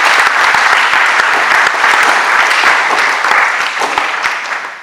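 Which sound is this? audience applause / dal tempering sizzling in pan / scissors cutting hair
audience applause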